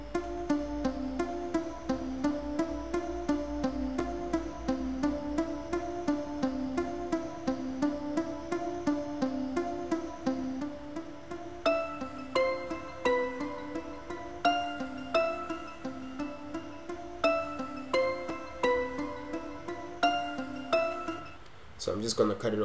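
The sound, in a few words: FL Studio melody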